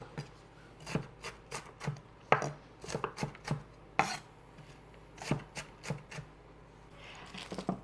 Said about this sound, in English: we're going to go ahead and we're going to slice up this raw onion